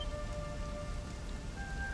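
Rain falls in Dragon Quest XI, a soft, steady hiss of drops on surfaces under sustained faint musical tones, even and continuous with no voices.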